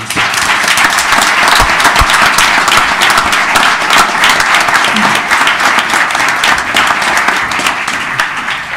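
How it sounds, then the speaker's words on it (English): Loud, sustained applause from the audience at a school board of education meeting, many hands clapping evenly throughout and tapering slightly at the end. "one big round of applause for all these"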